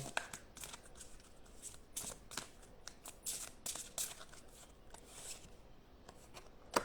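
Tarot cards being shuffled by hand, a quick run of crisp riffling slaps and soft rubbing strokes repeating close to the microphone, quiet and without talk.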